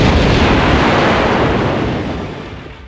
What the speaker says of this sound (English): Death by explosion is undoubtedly the goriest way for Lara to die in the classic games